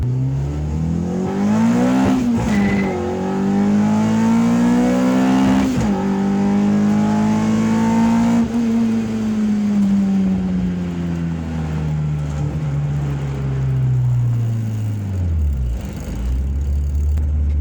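Race-prepared engine revving steadily under load on a dyno, sustained loud pull with a rough, uneven note suggesting a misfire, rising then falling away near the end.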